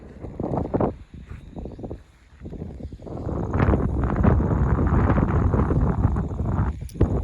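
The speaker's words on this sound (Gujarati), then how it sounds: "તો પવન બહુ છે એટલે સંભળાતું થોડુંક ઓછું હશે" Strong wind buffets a microphone during heavy rain, producing loud, uneven low rumbling gusts that ease briefly before building into a sustained roar. No voices are heard.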